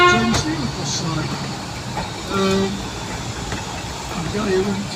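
A train passes near an old engine shed, its rumble running steadily throughout with brief tonal rises like a distant horn, while a voice talks over it.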